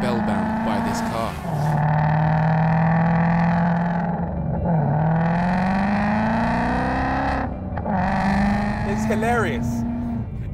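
Engine note of a Mustang CS850GT, an 859 hp manual muscle car, droning steadily with rising and falling pitch as it revs and shifts, loud and close, with a person talking over it.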